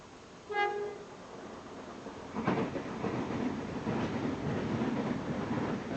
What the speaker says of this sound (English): Well, we've got a train.